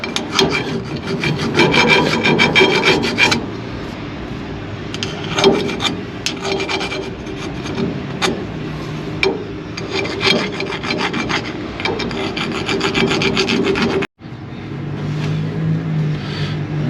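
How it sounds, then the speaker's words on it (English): A wire brush scrubs a brake rotor and hub during a 1994 Chevy OBS truck disc brake conversion, making steady close rasping strokes with brief pauses, fairly loud and continuous throughout. "I think I'll take the wire brush to this again."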